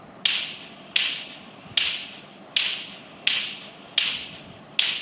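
Single-tap gunshots from a video game played through Realme Buds T500 Pro or CMF Buds 2 earbuds, seven sharp evenly spaced reports with short decaying tails, clear and alone.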